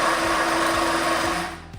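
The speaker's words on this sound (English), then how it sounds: "I'm not screwing around with a defective sawzall." A defective cordless reciprocating saw runs with a steady, rough mechanical whir and rattling buzz, loud and close, then winds down near the end as it stops.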